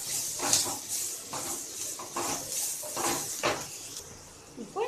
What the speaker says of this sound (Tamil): இப்போ இந்த உப்பை நல்லா கலந்து விடலாம்.